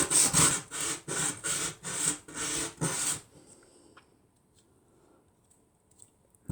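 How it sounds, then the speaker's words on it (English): A 3D-printed glove part rubbed flat on sandpaper: about seven quick, loud rhythmic back-and-forth sanding strokes close by, then near silence with faint small handling noises. "And now we have enough grip to sand it flat."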